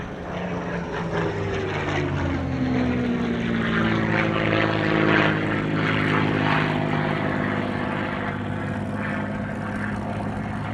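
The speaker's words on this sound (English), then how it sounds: "It took to the air for its first post-restoration flight in December 2021, and this is the aircraft's first public flying display." A restored warbird propeller aircraft makes its first public flying display at an airshow, its piston engine droning loudly and steadily overhead, the pitch sliding gradually as it passes.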